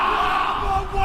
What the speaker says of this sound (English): The New Zealand military haka wowing the local Japanese crowd